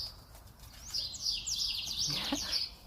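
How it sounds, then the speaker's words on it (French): Small birds chirp and twitter close by outdoors, a steady run of quick bright calls over soft background hiss with no one speaking. "pendant qu'à côté de moi, des oiseaux batifolent"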